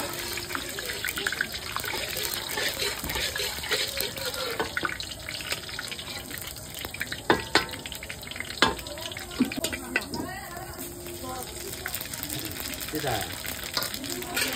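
Oil heating and frying in a pan with steady sizzling, plus running water and stirring clatter, all under ongoing talk in Bengali.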